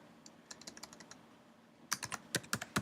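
A computer keyboard is typed on while a value is entered into a text field. A light run of keystrokes is followed by a louder, faster burst of sharp close clicks, with no speech.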